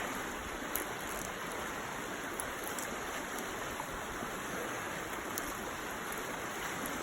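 Creek water rushing steadily past a sandy bank at a gold prospecting spot, a close, constant broadband wash with no voices.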